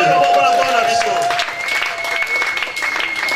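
Church congregation applauding in acclamation, a loud dense wash of clapping and crowd noise, with sustained tones from music or a held voice running through it.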